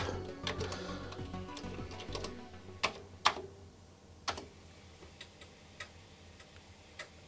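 Keys clack on a Commodore computer keyboard, giving a few sparse, sharp clicks spaced out over several seconds against a quiet room hum, close and fairly soft, with no talk.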